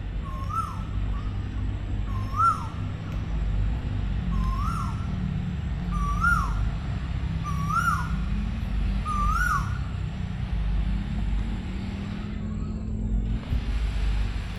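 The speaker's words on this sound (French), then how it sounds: "on entend l'oiseau typique thaïlandais" A typical Thai bird in Phuket Town calls six times at a steady, unhurried pace, each call a clear swooping note that stands out over a low hum of distant traffic.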